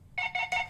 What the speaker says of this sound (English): Oh, now my phone's going off.